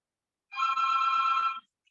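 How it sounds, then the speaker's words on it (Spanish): A single telephone ring sounds indoors during a talk, about a second long, clear and fairly loud against an otherwise quiet room. "Hay un teléfono que está sonando."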